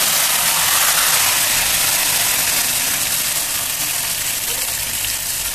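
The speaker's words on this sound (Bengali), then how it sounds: "মাছগুলো ঢেলে দিচ্ছি, আমার পেঁয়াজগুলো গোল্ডেন কালার হয়ে গেছে, আমি মাছগুলো ঢেলে দিচ্ছি।" Loitta fish hit hot oil with golden fried onions, producing a loud, steady, continuous sizzle that fills the whole stretch close to the pan.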